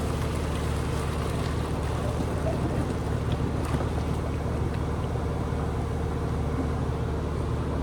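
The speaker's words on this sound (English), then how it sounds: "I'm going to drain the water." Water drained from cooked noodles through a strainer into a kitchen sink, a steady, continuous rushing pour with no voices.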